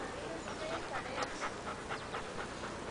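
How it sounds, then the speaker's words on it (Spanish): A dog pants in quick, steady breaths at close range, with faint speech in the background, while it looks out over a city. "Puchín se llama el perro"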